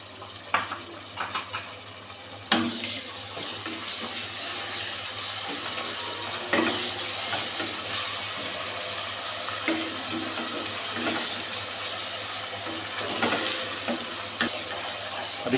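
Ginger garlic paste frying in a pan with light-browned onions, a steady soft sizzle broken by repeated clinks and scrapes of a spoon stirring against the pot, close and without talking.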